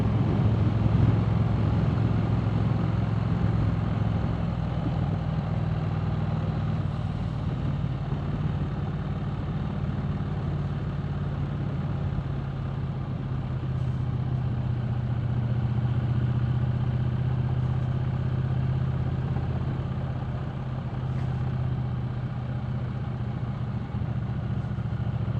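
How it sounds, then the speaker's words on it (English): Motorbikes ride behind on a road, a steady mid-pitched engine drone with low rumble that holds for the whole stretch without clear passes or peaks. "Two more bikes behind."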